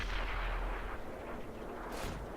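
An artillery gun in the World of Tanks video game fires as a deep, muffled boom with a rumbling tail, heard once at moderate loudness with a brief hiss near the end.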